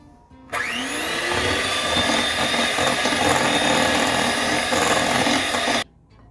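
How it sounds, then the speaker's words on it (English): An electric mixer beats chocolate chip cookie dough in a bowl, giving a loud, steady motorized whine for about five seconds that starts and stops abruptly. "I was probably mixing this for roughly like 5 minutes, maybe a little bit more"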